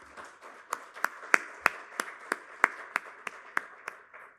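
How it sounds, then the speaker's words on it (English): At a facilities management industry event in a Pune hotel, an audience round of applause comes through as sharp, evenly spaced hand claps in a steady rhythm, fairly quiet and without talk. "let's have a great round of applause for yourself"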